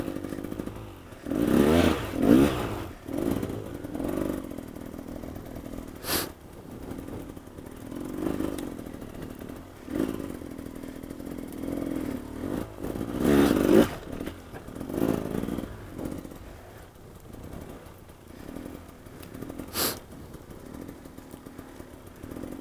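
An enduro motorcycle engine revving and labouring in bursts while riding uphill, rising and falling surges with clattering in between, fairly close and without talk.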